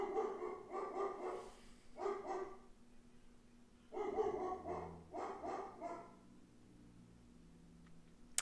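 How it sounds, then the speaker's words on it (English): A dog barks in several short bursts of two or three, fairly close, with quiet pauses between and a faint whimper-like tone at the end. "What the hell's my dog barking at?"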